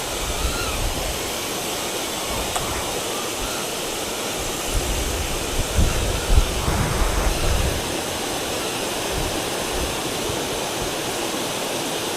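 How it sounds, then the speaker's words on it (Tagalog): Strong wind roars steadily near a waterfall in Puerto Princesa, Palawan, a loud broadband rush with gusts swelling midway and no talking. "Lakas ng hangin."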